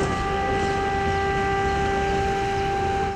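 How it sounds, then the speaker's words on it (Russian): A civil defense siren sounds during a warning system test in Barnaul, Russia. It holds one steady, loud wailing tone with bright harmonics throughout, and no one speaks. "В Барнауле сирена звучала 3 минуты."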